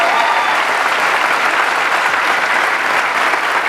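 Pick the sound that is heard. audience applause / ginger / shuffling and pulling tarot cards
audience applause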